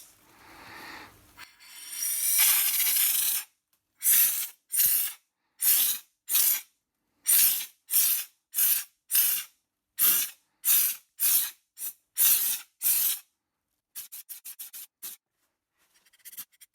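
Anti-gravel underbody paint sprayed from a can onto a car wheel arch: one long hissing blast followed by about a dozen short, evenly spaced bursts, close and loud, ending in a flurry of quick sputtering puffs, with no talking.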